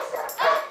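Three big dogs in a kitchen, with a short burst of barking or yelping that sounds close and loud against a busy indoor background.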